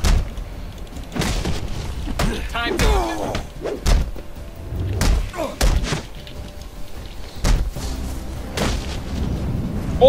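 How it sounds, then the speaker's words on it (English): Combat sweep kick landing in Batman: Arkham Origins, several dull thuds and slams striking amid a busy mix of game effects and brief voice fragments, fairly loud and close. "Oh, the sweep kick!"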